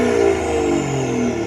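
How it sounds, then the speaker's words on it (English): A BMW B58 straight-six engine's exhaust runs loud and steady at close range, a continuous rich drone with no break in the sound. "Now it's time for the B58, which even on idle is really loud"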